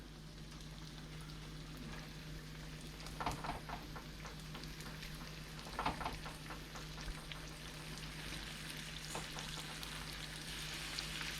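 Garlic shrimp frying in a pan, with a faint, steady sizzle and crackle and a few soft clicks of the pieces being placed, over a low constant hum, with no talking.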